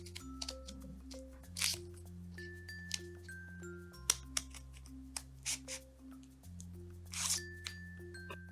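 Scissors cutting folded paper for a snowflake, a series of quiet crisp snips and crunches at irregular intervals, close by, with a soft music bed underneath.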